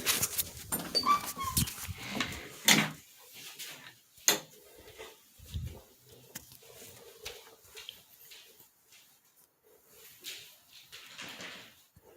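A dog whimpers and yips in short, uneven bursts indoors at night, with a few sharp knocks like a door in between, fairly quiet and close.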